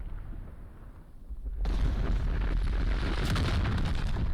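Bombardment explosions go off in Star Wars: Empire at War (Thrawn's Revenge). A quiet lull is broken by a sudden heavy onset of rumbling blasts that keep thundering loudly to the end.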